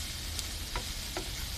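A plastic spatula working through a stuffed egg omelet as it fries in a pan over high heat, giving a steady soft sizzle with a few faint scraping ticks.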